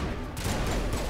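Rapid gunfire in the video game Mass Effect Legendary Edition, a dense burst of shots running loud and continuous through the moment with no clear gaps.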